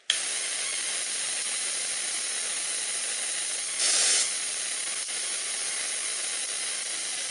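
An electric arc from a Tesla coil at about 40,000 volts hisses steadily and evenly, with a brief louder surge near the middle, alone and close.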